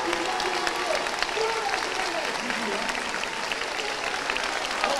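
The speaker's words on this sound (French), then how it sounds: "Sous les applaudissements." Steady crowd applause at an Octobre Rose breast cancer awareness event in Rochefort, a continuous even wash of many hands clapping outdoors at moderate distance, with faint voices underneath.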